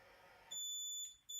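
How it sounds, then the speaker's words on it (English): An AP Inspiration closed-circuit rebreather controller beeps when dropping to its low set point: two thin, high electronic tones, quiet and close, separated by a brief gap. "You also get a beep to know that you've gone back down to low set point."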